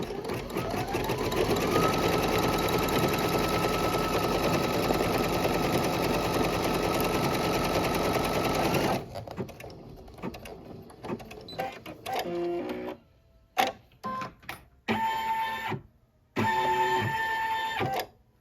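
A home embroidery machine stitching a straight line through the middle of a design, a fast steady mechanical whirring hum for about nine seconds, then short start-stop bursts of stitching with pauses.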